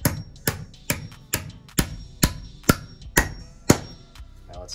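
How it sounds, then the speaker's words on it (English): A big hammer drives fasteners into a wall during kitchen floor framing repair, about ten loud, sharp, evenly spaced strikes close by with no talk. "And you really gotta hammer these in and try not to miss."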